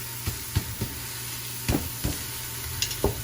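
Potatoes warming in a pan for ham, broccoli and potato soup, a soft sizzle under sharp, irregular knocks and scrapes of a utensil against the pan.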